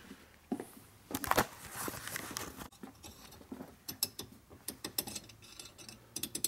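A reamer turns through the throttle shaft bushings of a 1940s Linkert M35 carburetor from a Harley knucklehead, making faint, uneven scraping and clicking strokes in a quiet workshop.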